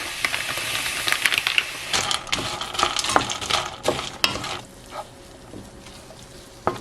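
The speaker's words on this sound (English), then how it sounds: "And then basically just cook this up, just occasionally stirring until everything is warmed through." Food cooks in oil in a pan and is stirred now and then, giving a steady close sizzle with repeated scraping and clicking strokes that ease off toward the end.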